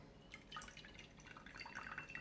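Excess broth drains from rehydrated soy curls into a bowl as a faint, close trickle with scattered drips over about two seconds, with no talking.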